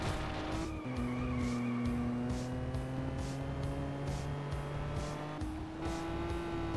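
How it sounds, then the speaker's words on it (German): Game car drifting in Juiced 2 during a team circuit race in Germany: a steady engine drone with long, sustained tire squeals, one continuous slide shifting pitch partway through, with no talk. "Drift-Einlage von Wagen 6."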